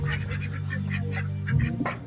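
Domestic ducks honk and quack loudly in a short burst at a village Magh Bihu uruka feast preparation in Sivasagar, Assam, over a steady background hum.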